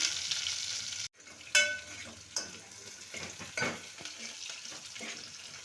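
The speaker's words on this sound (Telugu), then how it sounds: "నెక్స్ట్ ఒక తెల్లగడ్డ, కరివేపాకు కొద్దిగా, ఒక 2 మినిట్స్ కొంచెం ఫ్రై అవ్వాలి." Onion, garlic and curry leaves fry in a pan, a bright crackling sizzle broken by a brief pause, then several sharp metal spatula clanks and scraping strokes.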